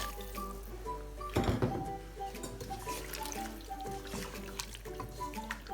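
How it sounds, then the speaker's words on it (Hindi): One litre of water is poured into vegetable pulao in a cooking pot, a close, continuous gurgling pour with a brief louder splash near the start and soft bubbling liquid sounds throughout. "अब हम इस पर ऐड करेंगे अपना पानी, 1 लीटर पानी है मेरे पास"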